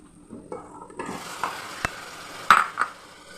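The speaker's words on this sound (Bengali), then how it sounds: "এবার মাংসটা দিয়ে সুন্দর করে কষাবো যতক্ষণ না তেলটা ছাড়বে" Chicken pieces dropped into hot oil in a pressure cooker pan and stirred, a sizzle swelling up after a quiet start, with sharp spoon clinks and scrapes against the metal.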